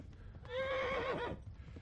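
A horse whinnies once, a clear, close neigh lasting under a second and falling off at the end, with faint hoof clops around it while riding in the medieval game Kingdom Come: Deliverance.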